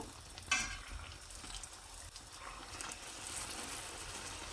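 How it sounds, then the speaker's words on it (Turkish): Turkish fried dough (puffy pişi) frying in oil gives a soft, continuous sizzle with faint bubbling and a brief clink near the start, quiet and close, with no speech. "Pişilerimiz yağın içinde pişiyor ama hiç yağ çekmiyor."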